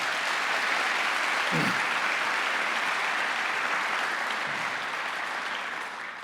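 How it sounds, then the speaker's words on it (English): Sustained applause from a large audience, loud and even throughout, tapering off slightly at the end. "round of applause"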